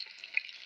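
Chicken frying in a pan at home: a brief, faint, steady hiss of sizzling oil with no voices.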